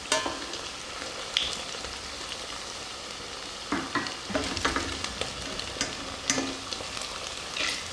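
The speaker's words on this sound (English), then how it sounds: "So usually the first hash browns take a bit longer, and this is because usually, you know, the oil is hot but it's not that hot" Grated potato hash browns, Polish placki, fry in hot oil in a pan: a steady close sizzle with scattered pops and scraping turns of a utensil, and no voices.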